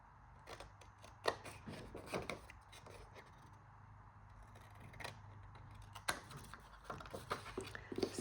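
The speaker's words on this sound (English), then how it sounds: "we're just going to cut up to there and across there and remove this piece" Scissors snipping through paper card during a papercraft flipbook make, a series of sharp close cuts spread across the clip over a low steady hum, with no talking.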